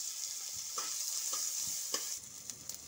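Onion frying in a pan for chowmein gives a steady, close sizzle with a few soft scraping stirs cutting through it, and no talking.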